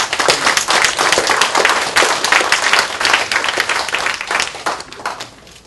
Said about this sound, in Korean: 여러분 스스로 다짐하는 의미에서 스스로에게 박수 한번 칩시다.